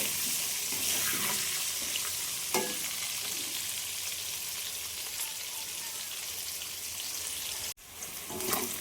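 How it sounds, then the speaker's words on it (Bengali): Potatoes fry in a pan with salt and turmeric, giving a steady, close sizzle with occasional stirring scrapes and a brief clatter near the end, with no talking. "নুন হলুদ দিয়ে আলুটাকে ভেজে নেব।"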